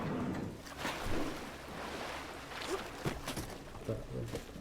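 Footsteps slosh through shallow water in the Bioshock game, a steady wash of splashing and watery noise with faint ambient rumble underneath.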